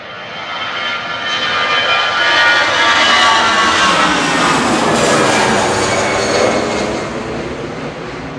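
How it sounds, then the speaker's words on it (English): Aer Lingus Airbus A320 Classic departing Manchester Airport, a loud broad jet roar that swells and holds, then eases slightly, heard alone without talk. "Aer Lingus departing back to Dublin with flight 209"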